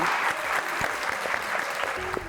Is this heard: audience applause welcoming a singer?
yes